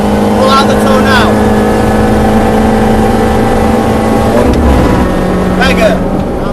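A Mini Challenge Clubsport race car at full power around Cadwell Park, its engine droning loudly and steadily from inside the car, with pitch shifts through gear changes and a driver talking over it.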